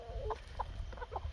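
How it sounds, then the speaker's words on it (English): A rooster, the dominant bird of a farm flock, gives a series of short, close clucks over a steady low background hum, with no talk. "He's not the biggest rooster now, but he's the boss man."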